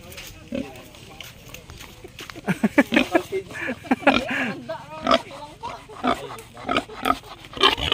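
Pigs grunt and squeal close by in repeated bursts on a farm during a livestock sale, with people talking throughout.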